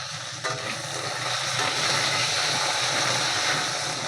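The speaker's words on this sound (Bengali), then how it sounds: "শিমটা বেশি ভাজার দরকার নেই," Potatoes and beans frying together in a pan produce a steady, fairly loud sizzling hiss that stays even throughout, with no talking.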